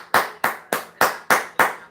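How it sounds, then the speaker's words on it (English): Six sharp hand claps in an even, steady rhythm, close and loud, with no voices over them. "I'm going to give you guys a round of applause"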